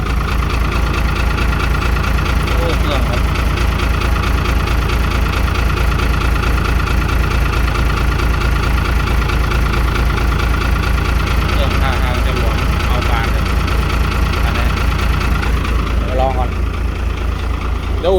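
A bus engine in Surin, Thailand, runs at a steady, loud idle with a rough, rumbling throb throughout, while people talk nearby over it.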